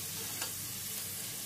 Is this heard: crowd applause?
no